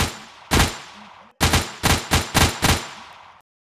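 Loud, close gunfire from a gun in the shooter game Project Confrontation: one shot, a pause, then five sharp shots in quick even succession, each with a short tail, followed by silence.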